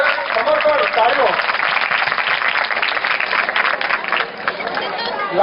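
Clapping from an audience gathered at a devotional kirtan session, a close, busy patter of hands with voices and crowd murmur mixed in.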